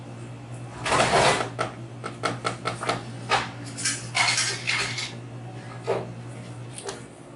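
A spatula scrapes and taps against a spoon in a bowl of waffle batter, giving a run of short clinking, scraping strokes of varying loudness in a quiet kitchen.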